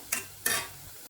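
Sweet vadai deep-fry in oil over moderate heat with a soft background sizzle, broken by two brief scraping clatters of a utensil in the pan.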